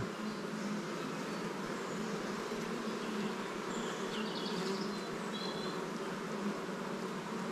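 Honeybees swarm and drone steadily at an open beehive during a brood inspection, a dense continuous buzz close by with no pauses.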